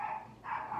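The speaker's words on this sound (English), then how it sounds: "I apologize for my dog." Two quick, faint dog yelps or barks sound in rapid succession, somewhat distant and muffled.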